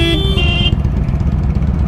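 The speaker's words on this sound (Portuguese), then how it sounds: "A minha buzina é mais forte" A customized Intruder 125 motorcycle sounds a loud, truck-style horn in one short blast, then its engine rumbles steadily at idle, close by.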